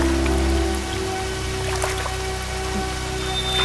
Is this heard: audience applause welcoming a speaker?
no